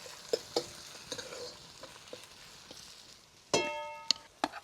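Ginger and garlic sauté in a pan for a dal tadka with a soft, quiet sizzle, broken by sharp scraping clicks of a spatula and a louder metallic stir near the end.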